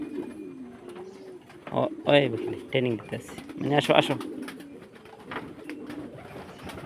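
Pigeons coo steadily in low, rolling calls throughout, close by, while someone talks over them as he coaxes young birds to come to his hand.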